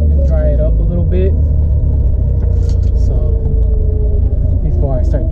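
Mitsubishi Lancer Evolution cruising on a freeway, a constant loud low road and engine rumble with heavy wind noise inside the cabin, while a voice talks over it.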